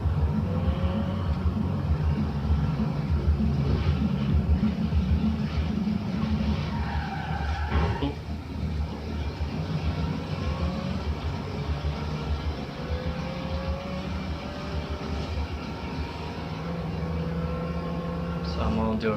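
Car in Forza Horizon 3 driving with a rumbling, revving engine and skidding tyres, continuous and loud, with a voice talking over it.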